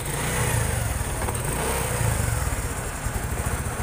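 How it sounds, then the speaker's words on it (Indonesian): Fuel-injected Honda Supra 125 motorcycle engine with a timing chain fault, running at idle close by with a steady throbbing rhythm and slight unevenness, no talk over it. "Coba kita nyalain lagi motornya, apakah masih pincang setelah dilakukan persetan."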